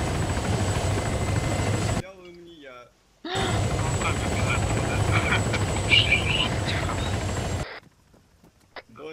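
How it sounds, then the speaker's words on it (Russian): A helicopter in the video game ARMA 3 roars with a loud, dense rotor and engine drone that cuts out abruptly twice, while players talk over it. "На меня сел вертолет."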